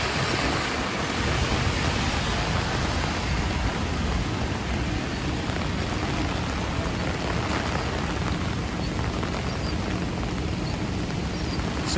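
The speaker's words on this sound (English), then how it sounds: "So we are here at the New York Public Library in the rain" Steady rain falls on a New York City street outside the New York Public Library in Manhattan, a dense, continuous hiss of drops spattering pavement, close and loud with no voices.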